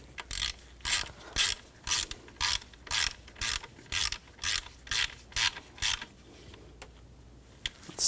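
Rapid ratcheting of a wrench snugging bolts on an alternator on a 2004-2009 Audi A4 Quattro 2.0L, about a dozen close, sharp click bursts in a steady rhythm, then fading to quiet.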